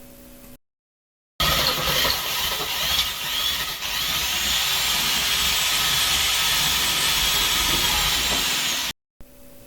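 A power drill bores through a wall with studs to make an opening for a fireplace chimney vent, giving a loud, sustained grinding hiss that starts after a short pause and runs for about seven seconds.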